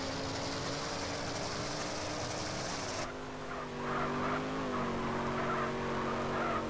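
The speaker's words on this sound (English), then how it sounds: "We just gonna continue into the drift." A car drifting in GTA San Andreas, with sustained tire squeal over a droning engine that shifts pitch as the slide continues, close and steady.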